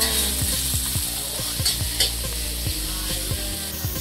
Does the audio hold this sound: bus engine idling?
no